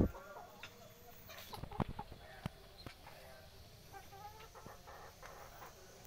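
Kate bantam hens and a five-year-old rooster cluck and murmur nearby in a backyard, with a few sharp louder calls early on over a soft, steady outdoor background.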